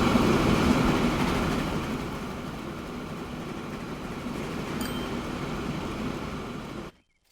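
A video game train rumbles along steadily with a dense, continuous rolling noise, loud at first then slightly softer, ending abruptly.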